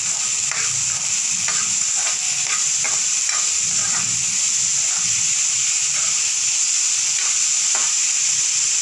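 Ingredients seasoned with salt are stirred in a hot pan for chicken soup, with a steady close sizzle running throughout and intermittent scraping strokes from the stirring.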